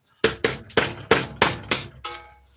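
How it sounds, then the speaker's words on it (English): Hammering in a shed workshop: seven sharp metallic blows at an even, quick rhythm, each with a short ringing decay, close and loud with no talking. "you are going to hear hammering and shit like that"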